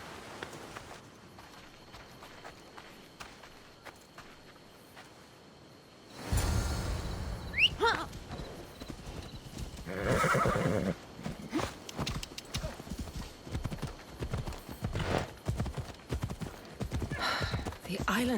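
Horse hooves clip-clop at a quick riding pace in Assassin's Creed Odyssey, loud and close, with a neigh and game music starting partway through, while characters talk over the steady hoofbeats.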